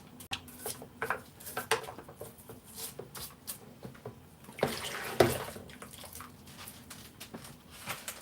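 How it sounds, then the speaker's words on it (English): Dishes and cutlery being washed up in a sink, with scattered clinks, knocks and water splashes at close range, a louder clatter around the middle, and no talking. "I am washing up, mate."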